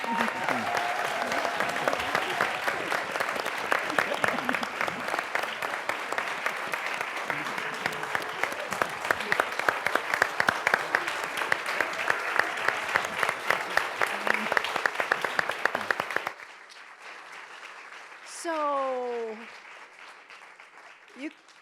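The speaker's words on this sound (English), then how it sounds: "one more round of applause for this amazing set of cooperative heroes" An audience at a Cooperative Hall of Fame inductee panel applauds steadily and loudly for about sixteen seconds, the claps dense and even, then it falls quiet with a brief faint voice.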